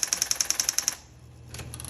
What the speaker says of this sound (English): there's 3 keys on an electric typewriter that have an auto repeat